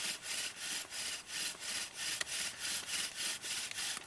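Rhythmic back-and-forth scraping of a bow drill spindle grinding against a wooden board in the rain, steady strokes about twice per second, close and alone.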